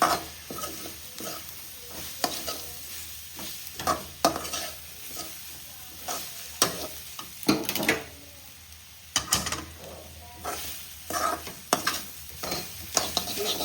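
Ground masala paste being stirred into frying onions in a pan for a Kerala mussel thoran: repeated scraping spoon strokes in an irregular rhythm over a steady close sizzle, with no talking.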